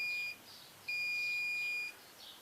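Two electronic beeps from a multimeter on continuity setting as a magnet nears a brushless motor prototype, a short one then a longer one about a second, clear and steady against quiet background.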